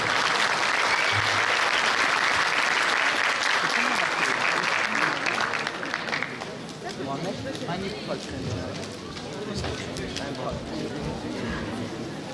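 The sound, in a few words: applause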